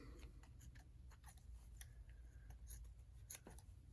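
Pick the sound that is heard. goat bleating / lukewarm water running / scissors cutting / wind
scissors cutting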